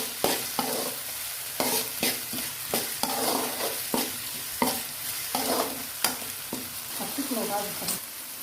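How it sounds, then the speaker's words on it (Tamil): Tomato, onion and ginger-garlic paste sautéing in a pan for a homemade chicken gravy, with a steady sizzle broken by repeated sharp stirring scrapes at an uneven rhythm, close and alone. "இஞ்சி பூண்டு தக்காளி வெங்காயம் எல்லாம் பச்சை வாசனை போட்டு நல்லா வதங்கிடுச்சு"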